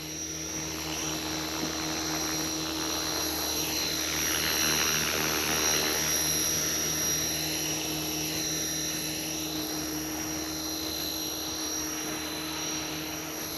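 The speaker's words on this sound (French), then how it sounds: "Tu vois Ludo, il vole ton héli" A radio-controlled model helicopter flies nearby with a steady high-pitched whine and rotor drone that swells and fades slightly as it moves, heard alone.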